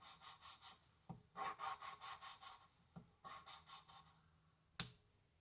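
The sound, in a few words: lapping an engine valve with a suction cup tool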